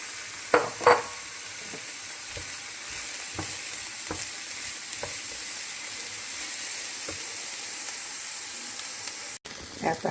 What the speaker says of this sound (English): After I've sauteed my onions and my green peppers